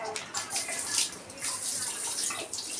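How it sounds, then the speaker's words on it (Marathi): Water pours steadily from an old tap beside a newly fitted washbasin in a bathroom under renovation, a close, continuous hissing splash lasting a few seconds with no talking. "हा माझा आधीचाच नळ होता"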